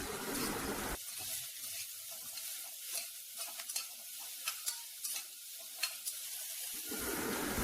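Thinly sliced medium onions sautéing in a hot pan, a steady hissing sizzle broken by repeated scraping strokes of a stirring spoon, close and alone with no voices.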